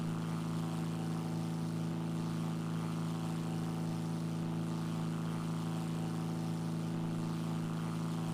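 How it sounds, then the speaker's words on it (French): A propeller aircraft passes overhead in the War Thunder combat game, giving a steady, continuous engine drone with a strong low hum that holds evenly throughout, with no talk over it. "Donc là je vois il y a un avion au-dessus."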